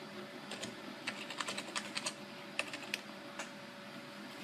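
Someone types a password on a computer keyboard during a Windows setup, a quiet, irregular run of light key clicks in small bursts against a faint steady hum.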